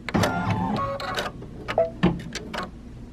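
An embroidery machine sews a satin stitch for appliqué on a kids' T-shirt, giving a busy run of rapid mechanical ticks and whirring needle strokes, close and fairly steady, then sparser clicks toward the end.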